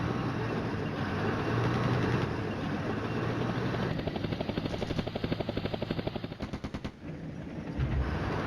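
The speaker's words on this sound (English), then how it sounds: "There comes the helicopters." Helicopters fly in the wargame Flashpoint Campaigns: Red Storm, a steady rotor drone that turns into a fast, pulsing thump midway and blends with bursts of machine-gun fire, loud and continuous with no voices.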